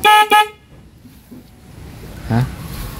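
Two short, loud car horn toots in quick succession, one from a snail horn and one from an ordinary horn, followed by quieter background noise and a faint voice.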